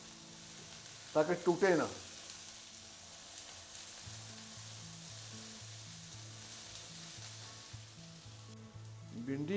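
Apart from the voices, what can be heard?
okra frying in ghee in a pan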